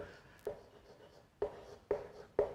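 Chalk or a marker writes on a board during a Hindi physics class on rotational motion, four distinct tapping strokes spaced unevenly, close and moderately loud, with no talking over them.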